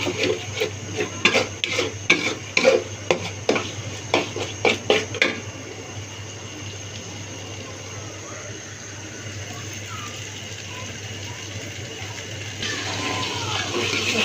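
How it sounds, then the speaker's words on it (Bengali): Spice masala being stir-fried in a pan with a spatula, a run of quick scraping, tapping strokes against the metal, then a soft continuous sizzle with faint stirring. "এখন মশলাটাকে খুব ভালো করে কষিয়ে নিব।"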